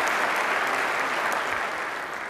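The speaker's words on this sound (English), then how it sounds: "That deserves a round of applause." Dense, loud applause from an audience at a county address, a continuous wash of clapping that tapers slightly at the end.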